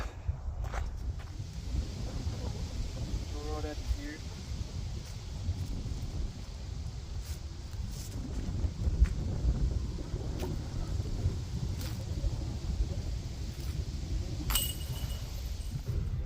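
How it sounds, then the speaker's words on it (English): A strong headwind of about 15 miles an hour blowing across a disc golf course, making a constant low rumble and buffeting over the microphone throughout, with faint clinks and scuffs now and then. "Kind of a ripping headwind"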